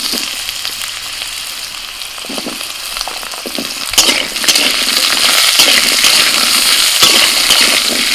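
Chunks of pumpkin and potato fry in hot oil in a home kitchen, a continuous close sizzle with scattered clicks of the pieces shifting, growing louder and denser halfway through; no speech.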